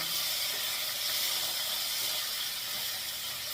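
Tomatoes sautéing in a pan for a lentil-free tiffin sambar give off a steady, close, even sizzle with an unbroken hiss that holds for the whole stretch, with no talk over it.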